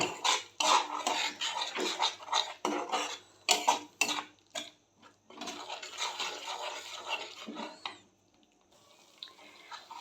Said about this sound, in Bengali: এই সময়তে আমি এখানে আদা রসুনের পেস্টটাকে দিয়ে দিলাম, দিয়ে ভালো করে কষিয়ে নিচ্ছি।